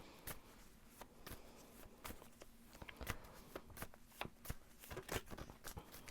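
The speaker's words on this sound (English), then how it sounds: "I'm going to shuffle a little bit more" Tarot cards are shuffled by hand in a quiet room, making soft repeated riffling and tapping bursts in an uneven rhythm for about six seconds, close by and fairly faint, with nobody speaking.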